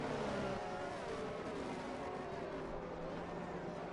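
Race cars roaring around the Miami circuit in an online PlayStation league racing video game, a dense, steady engine drone holding at even loudness throughout with no voices.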